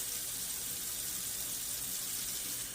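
Running water rinses scales from fresh fish in a sink, a steady, even hiss of tap water with no breaks throughout.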